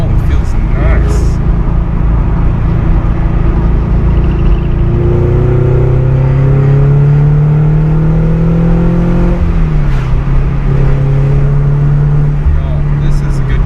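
A Subaru BRZ / Toyota FRS engine revs after an ACT clutch install, a loud continuous drone that rises in pitch and then settles into a steady idle hum.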